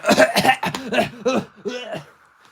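A man vocally imitates someone coughing after a vape hit, producing several rough, hacking cough bursts in quick succession that fade to a quieter rasp at the end.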